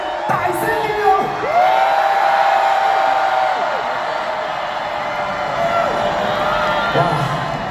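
Large concert crowd at a Hong Kong arena show cheering and whooping, a loud sustained roar with shrill whistles and yells rising throughout, no speech over it.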